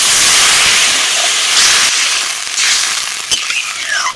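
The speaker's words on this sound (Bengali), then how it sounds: "আমি এখন জল দিয়ে দিচ্ছি।" Water poured into a pan of hot frying spices for a snail and amchur dish, bursting into a loud, close hiss of steam that slowly settles while a spoon clinks once.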